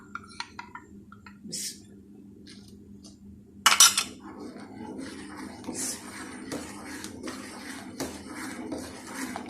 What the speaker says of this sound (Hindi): बस चम्मच हिलाते रहना ताकि गुठलियाँ ना बने इसकी।